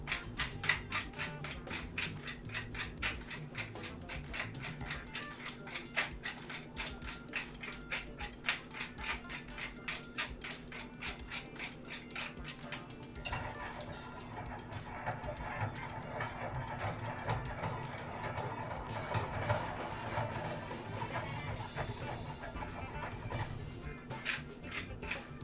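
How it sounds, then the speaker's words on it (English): A hand-turned pepper grinder cracks peppercorns for potatoes, giving a fast, steady ratcheting click close by that later turns into a rougher, denser grinding. "We're going to be grinding pepper here for a moment because we need pepper for our"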